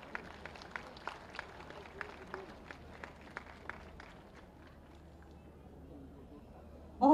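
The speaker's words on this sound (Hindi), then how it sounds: "मैं आपकी जोरदार तालियां चाहूंगी" Audience applause at the closing ceremony of the Gorakhpur festival in India: a faint, steady patter of many hands clapping, heard from a distance, fading out before a sudden louder sound at the end.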